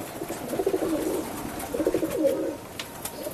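Pigeons at a Madhyamgram pigeon farm give low, throbbing coos in two clear bouts, fairly close and steady, with faint background noise between them.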